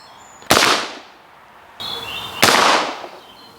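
Two sharp, loud black-powder gun shots, about two seconds apart, each a sudden crack trailing into a decaying rumble, fired with a doubled 1.2 g charge behind a 3D-printed Minié ball, with no talking.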